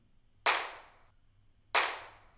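Two sharp clap hits from a beat ring out about a second apart, each snapping on hard and fading quickly, with a thinned, EQ-cut low end and nothing else between them.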